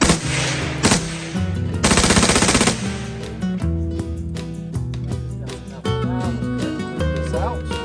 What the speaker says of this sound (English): Now we'll go ahead and put her on full auto.